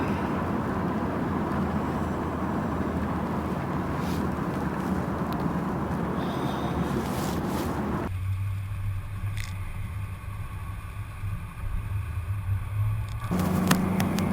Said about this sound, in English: watch this vehicle, this Mustang going down the freeway